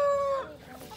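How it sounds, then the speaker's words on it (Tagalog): A chicken on a farm gives a drawn-out, tonal call up close, then trails off into softer clucking from several chickens in the background. "Mga manok po. Daming manok."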